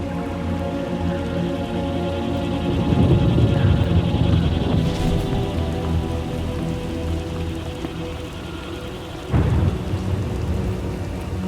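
Steady heavy rain hisses throughout a thunderstorm in Star Wars: The Old Republic, with a deep rumble of thunder rolling in the middle and another sharp thunder crack near the end.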